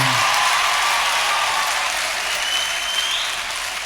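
A comedy show audience breaks into loud, sustained clapping, a dense continuous roar of many hands that holds steady and fades only slightly by the end, with no one talking over it.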